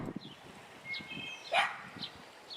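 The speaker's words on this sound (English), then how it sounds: "He has a dog barking in the background" A dog barks a few times in the background while training goes on, sharp yips and barks mixed with fainter shuffling and other low sounds, the barks staying fairly distant and intermittent.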